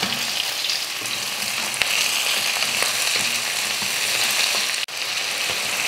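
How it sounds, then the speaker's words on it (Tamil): Garlic, big onions and tomatoes sizzle and fry in a pan for spicy chutney, a steady close crackling hiss with occasional stirring knocks and a sharp scrape near the end, no voices. "வெங்காயத்தை வதக்கிட்டு தக்காளி 3 தக்காளி"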